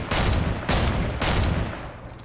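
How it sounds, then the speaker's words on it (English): Gunfire from the video game Fortnite: three loud, close bursts of rapid shots, each cutting in sharply and trailing off into a dense, rumbling tail before the next. "this is me shooting"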